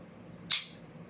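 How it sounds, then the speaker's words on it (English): A Monster Zero Ultra energy drink can is cracked open close by, giving a single short, sharp hiss-pop with a brief fizz that trails off into quiet. "Gotta have that nice, satisfying opening to the Monster can, of course."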